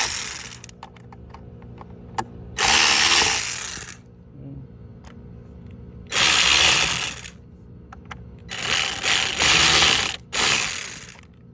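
A power cable fitting on a Maytronics Dolphin Nautilus CC Plus pool robot is tightened with ratcheting clicks, heard as three loud, close bursts of rapid clicking separated by quieter pauses with a few isolated ticks.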